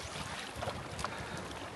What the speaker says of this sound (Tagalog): First time ako nag-pump boat sa open sea.